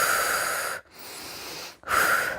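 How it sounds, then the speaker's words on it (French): A woman in a relaxation session for pregnant women draws deep, forceful breaths close to the mic, a long airy inhale, a softer exhale, then another strong breath, with no talking. "prendre quelques inspirations un peu plus toniques"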